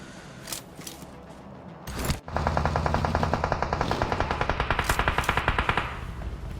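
Rapid automatic gunfire rattles in a mobile battle royale game, a few scattered shots first, then a long sustained burst of evenly spaced loud cracks.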